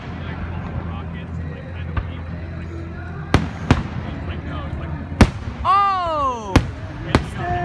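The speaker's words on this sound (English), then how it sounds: "they always launch fireworks." Fireworks at a Stanford stadium show: sharp, loud booming bursts at irregular intervals and a rising whistling launch streak, heard over a murmuring outdoor crowd, with a person briefly exclaiming.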